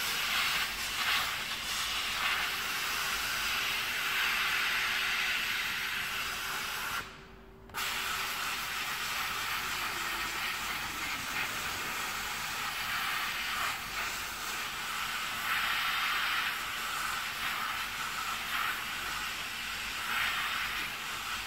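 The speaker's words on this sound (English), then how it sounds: "Just letting the steam get through the carpet into the leather." A steam machine steams the carpet and leather of a Porsche 993 Turbo S with a continuous close hiss, broken by one brief pause partway through, and no talking.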